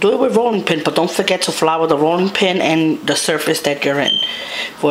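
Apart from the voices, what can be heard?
No distinct noise like a dog, phone or traffic.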